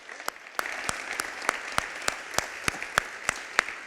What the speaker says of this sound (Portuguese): Vamos dar uma salva de palmas para Jesus, Pai.